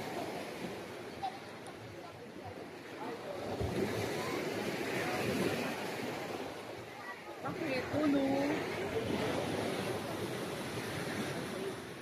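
Strong waves slapping around an island-hopping boat in the Philippines, a rough, continuous wash and splashing with wind buffeting, while people talk over it.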